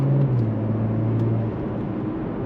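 A Porsche Macan GTS with a 360-horsepower engine runs close by, giving a steady, loud low hum whose tone drops partway through.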